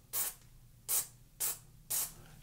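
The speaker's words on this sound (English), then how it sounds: "the first thing you want to do is just get initial spray on there" Four short, sharp hissing bursts from an aerosol can of contact cleaner sprayed onto stereo connectors, evenly spaced and close by, in an otherwise quiet room.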